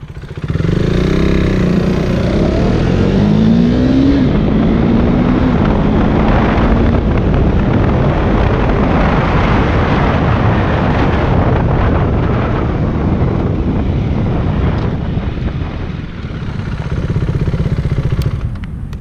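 A motorcycle accelerates hard through upshifts, engine roaring loud and close with rising pitch sweeps, then eases off as it brakes and downshifts without throttle blips, all under heavy wind buffeting.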